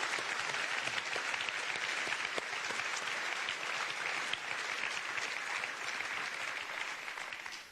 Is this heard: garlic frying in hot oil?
no